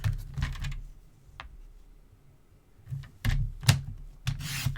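Paper for a junk journal being trimmed on a craft table with a paper trimmer: a few quick, close rasping cuts and slides, separated by a quiet pause in the middle.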